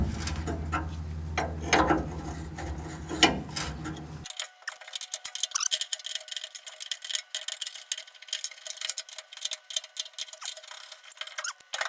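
An 11 mm wrench working loose the brake pressure regulator on a Porsche 914, with close, irregular metallic clicks and ratcheting taps over faint background noise.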